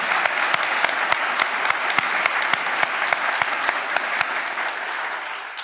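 An audience at a women's leadership panel event applauds to welcome the panelists, with dense, steady clapping from a room-sized crowd and a few loud, distinct claps standing out near the microphone. The applause continues throughout, and some faint voices can be heard underneath.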